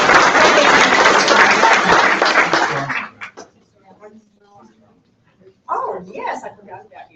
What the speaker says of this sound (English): So let's give them applause for